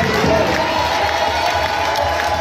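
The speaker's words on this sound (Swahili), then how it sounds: "mpige Bwana Yesu makofi" A church congregation claps and cheers for Jesus at a service, a loud, continuous crowd roar with shouting voices mixed in.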